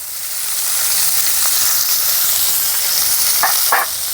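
Mashed boiled potato tossed into cauliflower frying in a pan, giving a loud continuous sizzle with a few soft stirring knocks near the end, no voices.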